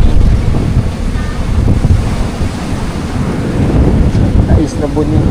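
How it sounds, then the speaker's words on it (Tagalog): Strong ocean waves surge and wash onto Boracay's beachfront, a constant loud roar of surf mixed with wind buffeting the microphone, with no clear breaks in the churning noise. "Kaso lakas ng alon mga kapatid."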